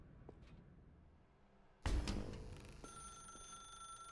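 A telephone rings in The Stanley Parable Ultra Deluxe, a sudden loud onset after a quiet stretch, then a sustained bright bell tone that carries on steadily to the end.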